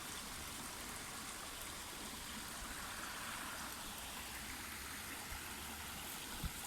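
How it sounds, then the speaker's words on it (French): A small outdoor stream trickles over little pebbles in a steady, faint, continuous wash of flowing water, with no voices. "elle passe dans tous les petits cailloux"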